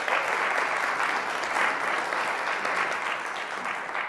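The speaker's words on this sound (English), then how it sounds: "How about a round of applause for those students?" A crowd applauds students at a business pitch competition, steady dense clapping of many hands sustained at an even level throughout.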